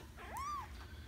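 A single short, thin rising-and-falling meow from a week-old abandoned kitten, faint and close, alone over quiet room hiss.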